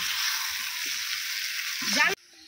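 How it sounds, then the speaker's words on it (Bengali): Potato and pumpkin frying in a pan, a steady bright sizzle with a short stirring scrape before it cuts off abruptly into near quiet. "আলু কুমড়োটা একটু ভালো করে ভাজা ভাজা করে নেব।"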